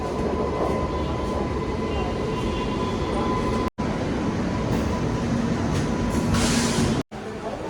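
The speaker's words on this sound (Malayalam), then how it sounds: "ഫൈനലി ഇതാ നമുക്ക് വേണ്ടി ട്രെയിൻ വന്നുകൊണ്ടിരിക്കുന്നുണ്ട്" A train arriving at a station rumbles loudly and steadily nearby, with a faint metallic ring over the continuous roar of the rails.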